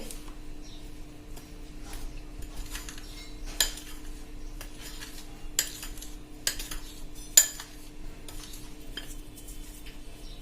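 A spoon mixes flour and custard powder in a bowl, making quiet irregular scraping and light metallic clinks, with a few sharper taps standing out over a low steady hum.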